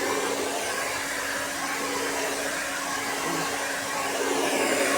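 A hair dryer blows on hair with a steady, close, even whooshing roar and a faint hum, unbroken for the whole stretch with no voices.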